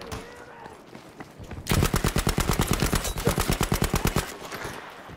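Sustained automatic suppressing fire in Battlefield V's Pacific war setting, a loud, rapid, evenly paced string of shots lasting a few seconds after a quieter stretch of background battle noise.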